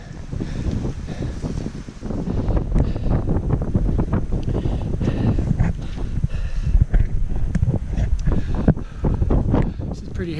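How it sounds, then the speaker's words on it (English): Strong gale-force wind on a mountain roars and buffets the microphone in a constant heavy rush, loud and close throughout, with some talking partly buried under it. "This is pretty hairy. Wind's blowing a gale."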